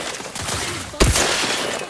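Gunfire in The Outer Worlds 2 on PC: a sharp, loud volley cracks out halfway through, with a dense ringing tail over an already busy, noisy battle backdrop.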